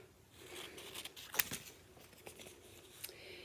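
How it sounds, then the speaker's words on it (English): Quiet, close snips and crinkles of scissors cutting through a thin strip, with a few sharp clicks. "So I've got my scissors, I'm rounding the edges."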